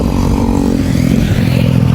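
Motorcycle engine running nearby, a steady low rumbling drone with a faint rising pitch, fairly loud and constant with no talking over it.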